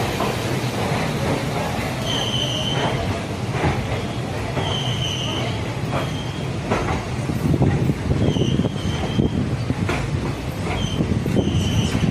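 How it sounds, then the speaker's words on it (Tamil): A train pulls out of Tirunelveli Junction with a steady rumble of rolling wagons, rhythmic wheel clatter and a few high squeals of wheels on rails, while people talk nearby. "நமது தொடர் வண்டி திருநெல்வேலி சந்திப்பை விட்டு புறப்பட்டு விட்டது."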